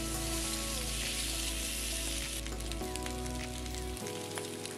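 Potato slices fry in mustard oil in a kadhai, a steady crackling sizzle that holds throughout at close range, no talking, with a low hum underneath.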